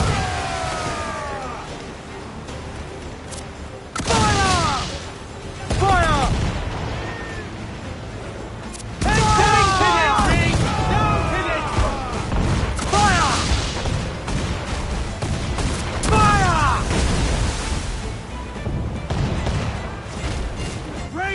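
Ship cannons booming in Assassin's Creed Black Flag, repeated heavy blasts in irregular volleys over about twenty seconds, loud and near, mixed with shouting voices and other battle noise.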